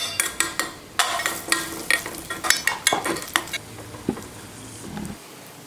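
Cashews and raisins frying in ghee in a small kadai, with a steady sizzle and a run of sharp metallic stirring scrapes and taps that slow toward the end.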